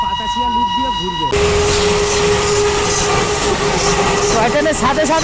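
Darjeeling toy train rolling along its rails, a loud, close, continuous rumbling clatter that abruptly takes over after a stretch of voice-like tones, with a long sustained whistle-like tone running beneath it.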